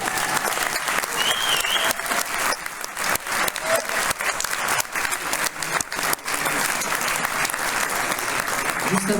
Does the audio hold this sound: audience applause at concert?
yes